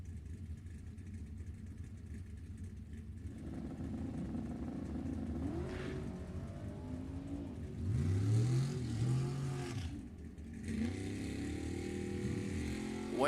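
Drag race cars, an '02 Camaro and a '65 Mustang, launch at a drag strip, their engines rising into loud, roaring acceleration that swells and shifts as they pull away, heard from some distance.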